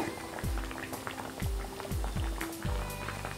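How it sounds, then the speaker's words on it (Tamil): Badusha sweets deep frying in hot oil, a soft continuous bubbling and sizzle with a few sharp pops and drips, close and fairly quiet. "எல்லா பக்கமும் நல்ல கோல்டன் ப்ரௌன் ஆகிற வரைக்கும் ஃப்ரை பண்ணி எடுத்துடலாம்"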